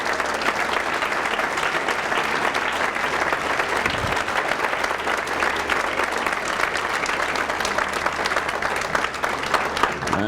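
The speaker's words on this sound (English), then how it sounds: "Where are my principals? Let's give them a round of applause." An audience at a State of the Schools event applauds school principals with sustained, dense clapping that stays loud and even for about ten seconds.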